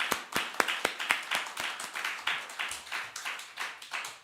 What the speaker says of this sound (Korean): 우리 크게 한번 박수하겠습니다.